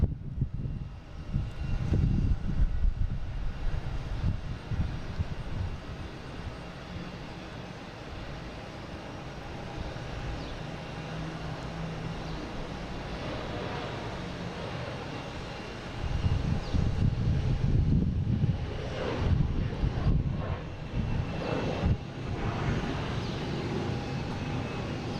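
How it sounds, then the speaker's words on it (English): An Air Canada Embraer E175 takes off at Boston Logan, bound for Montreal. Its steady engine roar runs throughout at moderate distance and swells louder near the end. "next taking off is Air Canada. Going to be heading to Montreal and E175 flight 8611."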